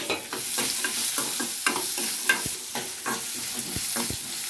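Onion pieces and turmeric fry in oil for buttermilk rasam, a close steady sizzle with rhythmic stirring strokes and occasional light clicks against the pan, nobody speaking.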